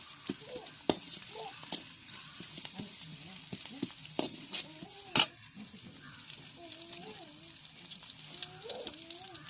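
Crushed garlic dropped into hot oil for a bitter gourd gravy, giving a low steady sizzle with occasional sharp spoon clinks and pan knocks, while a voice talks quietly in the background.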